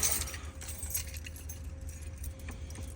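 Metal keys jingle and clink together on a ring, close by, with a steady low rumble underneath.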